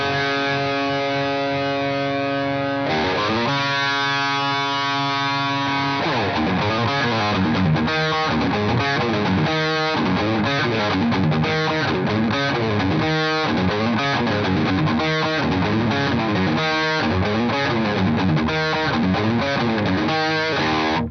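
A riff plays on a loud, distorted electric guitar, opening with sustained ringing chords and then breaking into a fast, driving, continuous picking pattern, close and alone.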